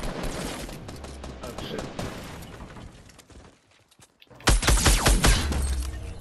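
Sniper gunfire and other shots in the video game Fortnite come as bursts of sharp cracks and rattling fire, with a short quiet gap before a louder cluster, and a voice exclaims briefly.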